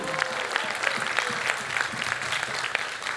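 An audience applauds a quiz team at a competition finals, a steady wash of many hands clapping at close range with a few sharper claps standing out, and no voices over it.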